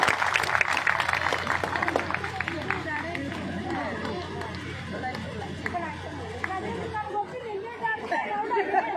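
Crowd at a political rally in Haryana breaking into scattered clapping and chatter, with a loud crackly burst at the start thinning into busy murmuring, footsteps and intermittent claps.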